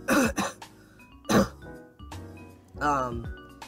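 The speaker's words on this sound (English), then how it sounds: "I gotta cough for a minute" Several harsh, loud coughs and throat-clearing bursts close to the microphone, spaced out over a few seconds.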